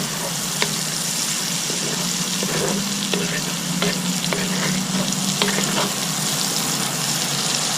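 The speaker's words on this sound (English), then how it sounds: "We'll just let them kind of saute for a few minutes" Coarse-chopped potato chunks sauté in a Dutch oven, a steady close sizzle with scattered crackles and pops running the whole time, no voices.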